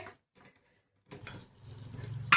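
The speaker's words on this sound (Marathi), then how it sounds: "आता टाकून घ्यायचं आपल्याला कांदा" Chopped onion goes into a pan for spicy tomato chutney, with a short clatter, a brief pause, then a louder burst of dish and utensil clinks ending in a sharp metallic knock.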